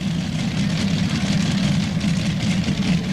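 A modified pulling tractor powered by a single Allison engine runs at a 1994 NTPA pull in Imlay City, Michigan, a loud continuous low rumble with steady roar and no pauses.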